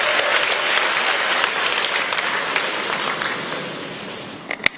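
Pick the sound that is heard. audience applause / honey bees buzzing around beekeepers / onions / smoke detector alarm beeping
audience applause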